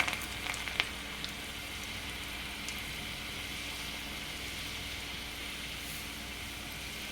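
Garlic dropped into hot oil for a tempering, giving a steady, even sizzle and crackle close by, with a few sharper pops at the start.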